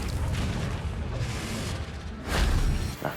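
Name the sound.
Confringo fire spell exploding in Hogwarts Legacy video game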